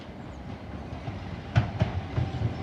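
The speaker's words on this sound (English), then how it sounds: "approaching in now is the 1159 Southeastern service from London Charing Cross to Hastings" A Southeastern Class 375 electric train, a service from London Charing Cross to Hastings, rolls into Tonbridge station with a low hum and rhythmic clickety-clack of wheels over rail joints, growing louder as it nears.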